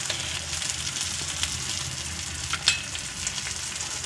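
An egg omelette fries in oil over a low flame, a steady close sizzle and crackle with small pops and a brief louder spatter partway through.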